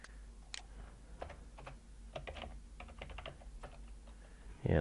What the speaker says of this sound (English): So I'm going to type that in.